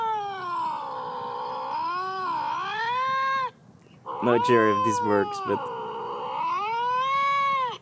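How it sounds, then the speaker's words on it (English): Recorded cat yowls and meows are played back to scare off mice: long, wavering, loud caterwauls with a short break, while someone speaks briefly over the middle. "Cat sounds to scare mouse away."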